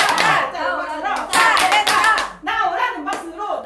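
A group claps hands together during a Korean church children's Bible teacher training session, with sharp repeated claps mixed into singing or chanting voices that continue throughout.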